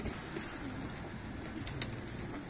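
Young pigeons coo softly in a loft, with low, faint, rolling calls repeating over a steady background hiss.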